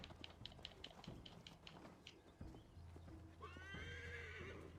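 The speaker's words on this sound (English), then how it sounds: "Call my horse! Horsey." A horse in the video game Assassin's Creed Valhalla trots with quick clip-clop hoofbeats, then gives a loud, drawn-out whinny near the end, all fairly close with no talking.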